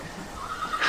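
A horse whinnies as a radio drama sound effect. The neigh is brief and fairly close, rising and brightening toward its end, with no talk over it.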